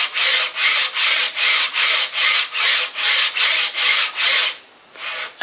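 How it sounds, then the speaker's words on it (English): A Robotdigg linear rail on a 3D printer runs back and forth, making a loud, close, rhythmic scraping hiss in about ten even strokes before a short pause and one quieter final pass. "let me just give you an idea of the noise that you get from the Robotdigg ones"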